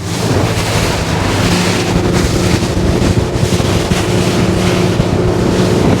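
A Cruise Craft E695 boat at about 3,600 RPM crosses big ocean swell near a bar entrance, with a loud, continuous rush of wind buffeting and water noise over a low engine drone, no talking.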